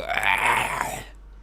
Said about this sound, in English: when I burp, I just try to force it out as fast as possible